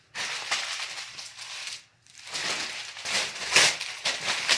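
Newspaper or packing paper is crumpled by hand for a wood-burning fireplace insert, loud close bursts of crackling rustle with a short pause midway.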